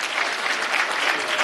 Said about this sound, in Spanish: Le brindamos un fuerte aplauso a Jorge